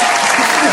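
A short, loud burst of audience applause and cheering for the host at a coffee kitchen food event, heard close and dense.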